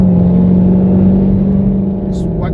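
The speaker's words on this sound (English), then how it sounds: "that supercharger whine right there" The supercharger of a Dodge Hellcat engine whines steadily and high, droning continuously alongside a low rumble, with no pauses, close and loud throughout.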